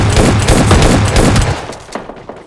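Gunfire from a shooting video game comes as dense, loud, continuous bursts of rapid shots that thin out and fade near the end.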